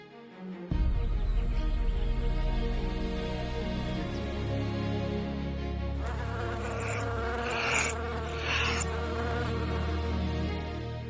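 A swarm of African bees buzzes loudly and continuously, a dense droning hum that holds steady for several seconds with shifting intensity and no voices.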